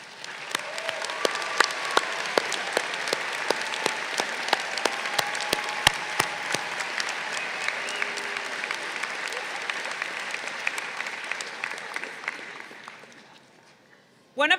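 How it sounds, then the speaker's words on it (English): A large audience at an MBA commencement ceremony applauds steadily, dense clapping filling the hall for over ten seconds before fading away. "Let's do another round of applause for this wonderful"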